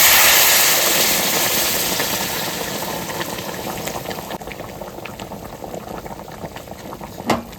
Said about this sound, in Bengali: এই ফুটানো জল আমি দিয়ে দেবো।